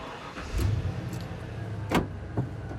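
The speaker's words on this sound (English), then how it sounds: "Alright, now we're gonna turn it on so you guys can hear it." An OBS full-size Ford Bronco engine cranks and turns over, with a brief high whine and a few clunks over a low, steady rumble.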